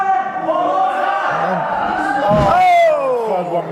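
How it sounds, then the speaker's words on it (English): Wrestling arena crowd at a Genesis Championship match roaring and cheering loudly after a DDT and leg sweep, a sustained wall of voices with a sharp swell of noise midway, under a commentator talking throughout. "Listen to the crowd"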